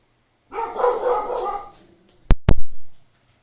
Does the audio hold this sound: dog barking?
yes